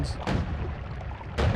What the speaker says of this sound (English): There's more explosions.